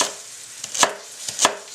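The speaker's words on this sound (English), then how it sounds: "I'm going to do a fine chop on the celery." Celery being chopped finely with a knife on a cutting board, heard as a few distinct close taps spaced irregularly, each a crisp knock against a quiet background with no speech.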